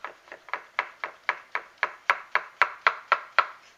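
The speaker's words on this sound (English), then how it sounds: "I just cut it in half, right, and cut it into slices." A knife cuts through a halved cucumber into slices on a board, giving about fourteen crisp, evenly spaced chops in a steady quick rhythm, close and clear with no talk.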